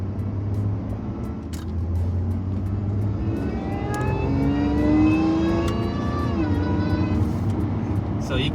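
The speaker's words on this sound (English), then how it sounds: "you can faintly hear the Supercharger whine there" Jaguar F-Type V6 with an aftermarket intake, a faint supercharger whine rising in pitch as the car accelerates, close under a steady low engine and road drone.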